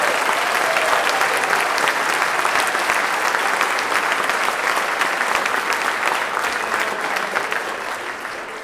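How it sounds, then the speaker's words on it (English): An audience at a district strings concert applauds fourth-grade string players, a sustained dense clapping from a full room that fades slightly toward the end. "Nice round of applause for fourth grade."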